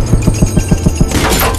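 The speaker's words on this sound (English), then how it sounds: "The wanted man punched a lot of holes in the glass." Bulletproof glass in a police station takes a rapid series of about seven heavy punches, evenly spaced thuds followed by a louder crunching crash as it gives way.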